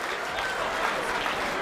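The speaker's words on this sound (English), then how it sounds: "They're not booing. They're chanting 2." A bowling crowd at a professional tournament match roars and chants together in a dense, loud, steady wash of voices and clapping with no breaks.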